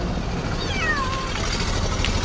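A single drawn-out kitten meow sounds close by over a steady low background hum.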